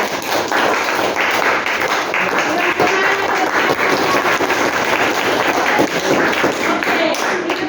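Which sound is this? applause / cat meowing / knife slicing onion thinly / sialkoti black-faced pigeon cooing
applause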